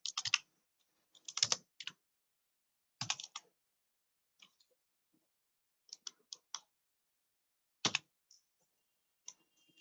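Separate bursts of key presses on a computer keyboard as a PIN is entered, single and double clicks spaced by silent pauses, close and crisp in a quiet room.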